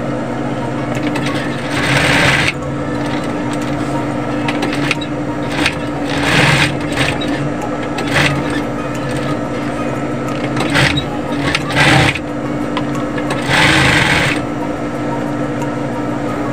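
An industrial sewing machine stitching the front panel of a belt bag, a loud continuous mechanical hum punctuated by several short bursts of rapid needle clatter, close up with no talk.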